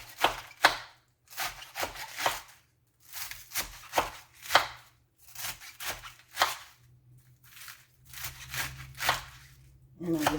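A knife chops salad vegetables on a cutting board in quick bursts of sharp, close taps, pausing briefly between runs, with a voice speaking at moments.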